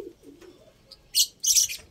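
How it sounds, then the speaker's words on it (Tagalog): Pigeons in a loft give soft low coos near the start, followed by two brief bursts of fluttering or rustling, all fairly close and quiet. "Yung mga tumatambay na ibon dito"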